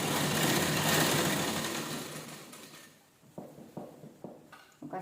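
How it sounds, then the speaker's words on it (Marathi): A sewing machine runs steadily while stitching all four sides of a table cover made from leftover blouse pieces, loud and continuous at first, then easing off into a few short separate bursts of stitching. "ह्याच्यावर आपण 4 साईडची शिलाई करू"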